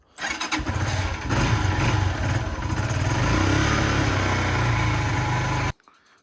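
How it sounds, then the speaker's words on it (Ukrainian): Lifan KP 150 motorcycle engine cranks and catches, then settles into a loud, steady idle close by before cutting off abruptly at the end. "Для початку ми заведемо мотоцикл, прогріємо трошки масло."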